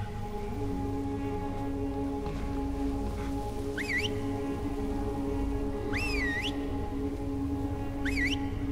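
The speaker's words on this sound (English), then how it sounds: "Whistle sound?" Whistles in the video game Deadlight, at a stadium entrance: three short rising whistle calls sound a couple of seconds apart over a constant low ambient hum, with no talking.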